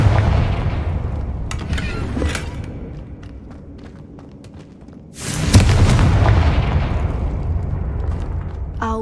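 A Confringo fire spell blast in the video game Hogwarts Legacy lands as a loud booming burst. A rumbling tail fades, then a second heavy explosive impact follows, with scattered crackles and brief game sounds around it.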